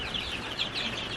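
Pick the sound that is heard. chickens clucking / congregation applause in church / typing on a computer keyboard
chickens clucking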